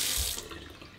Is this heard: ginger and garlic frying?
no